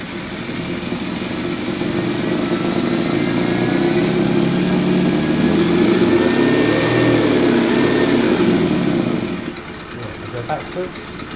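A sound module in a 1/6 scale New Bright Jeep TJ Rubicon RC conversion plays a simulated engine idle: a steady, wavering low rumble that holds for several seconds and then cuts out near the end, with someone talking over it.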